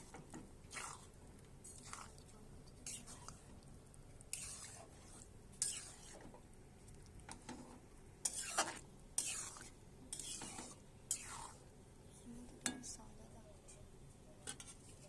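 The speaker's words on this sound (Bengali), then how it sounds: "এবার একটু নাড়াচাড়া করে নিচ্ছি" Food frying in a pan, stirred repeatedly with a utensil, giving a series of scrapes and clinks over a faint sizzle, fairly quiet and close, with occasional soft background sounds.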